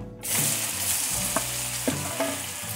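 Paneer pieces coated with salt, chili powder and turmeric fry in ghee, giving a loud, steady sizzle with a few sharp metallic spatula clicks over it.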